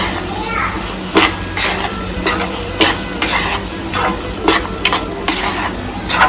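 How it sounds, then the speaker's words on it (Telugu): Chili powder and garam masala are stirred into a capsicum and gram flour curry in a pan, with repeated scraping strokes and utensil knocks over a constant sizzle. The stirring is loud and close, with faint voices in the background. "కారం, కొద్దిగా అంత గరం మసాలా వేసేసి ఒకసారి మళ్ళీ పైకి కిందకి కలిపేసుకున్నాం అండి"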